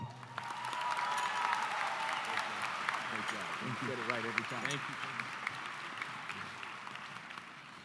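Audience at a high school commencement ceremony applauding to welcome a councilmember to the stage, steady dense clapping from a large crowd throughout, moderately distant with faint cheers and voices mixed in.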